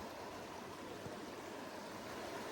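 River water flowing over small rock dams during salmon season, a steady broadband rushing murmur at moderate distance, constant and unbroken, with no speech.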